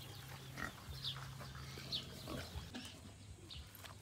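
Piglets in a breeding pen squeal in short, sharp bursts while being caught for castration and vaccination, fairly faint and mixed with low grunting and pen noise.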